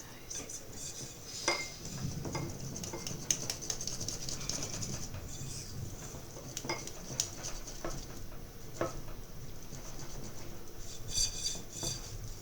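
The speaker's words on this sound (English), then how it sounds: "Okay, let's use the whisk." Lemon chiffon cake batter is whisked by hand in a bowl, a steady run of light metallic clinks and swishes that continues at an even, moderate level throughout, with no voices.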